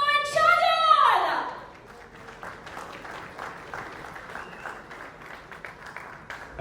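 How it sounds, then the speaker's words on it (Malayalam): Audience applause at the launch and team reveal of the CCF Premiere League Season 2 cricket league, a modest, scattered patter of clapping that follows a brief voice and carries on at a fairly low, steady level. "ഇത്ര കൈയടിയുള്ളൂ"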